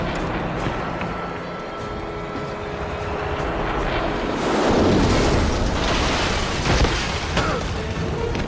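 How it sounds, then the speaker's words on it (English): Helicopter approaching in the game James Bond 007: Blood Stone, a rising rotor and engine roar building to a loud peak midway, mixed with booms and a dense action soundscape. "Helicopter inbound."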